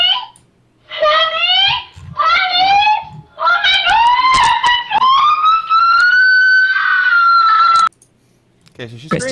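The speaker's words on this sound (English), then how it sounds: "she screams for a little bit" A female streamer screams in loud, rising, drawn-out bursts, several in quick succession with one long sustained wail, playing back from a video clip.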